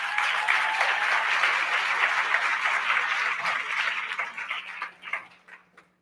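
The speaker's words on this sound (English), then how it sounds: "Let's give them a round of applause." A conference audience at a TEDx event claps in a dense burst of applause that holds steady, then thins out and fades to scattered claps.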